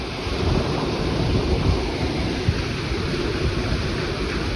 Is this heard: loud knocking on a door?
no